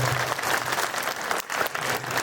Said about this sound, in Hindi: एक बार और मेरे लिए तालियां बजा दीजिए ना।